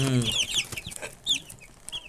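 Chickens cluck and squawk in short bursts close by at a layer poultry farm, with a faint rooster-like call among them.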